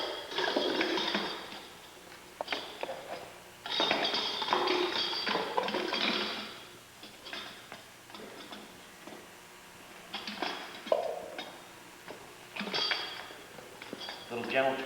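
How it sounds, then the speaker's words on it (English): Pool pump parts are slid back together during a repair, giving close bursts of plastic clunks, scrapes and ratcheting clicks, with quieter pauses between the handling. "But basically, slide the pump back together."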